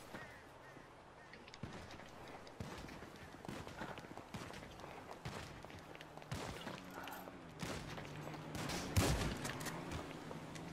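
Scattered gunfire in GTA Online mixed with game noise, several sharp shots including a loud burst near the end, with someone talking over it.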